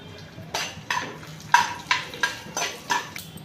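Spices and dried red chilies tempering in hot oil for a pumpkin pulusu, with quiet sizzling under a steady rhythm of spoon scrapes and clinks against the pan, close by.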